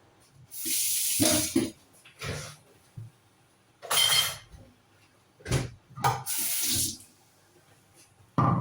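Dishes get washed at a kitchen sink, with bursts of running tap water and clinks of crockery between quiet pauses, close and moderately soft.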